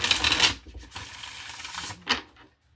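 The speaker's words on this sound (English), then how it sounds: "I want to give it another shuffle." Quick papery riffling of tarot cards, two brisk bursts with a steadier shuffle between, close and fairly soft, no voices.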